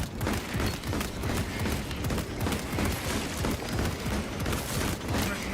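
Weapon gunfire in a video game, rapid dense bursts of shots rolling continuously and loudly through the whole stretch, with a busy mix of game noise.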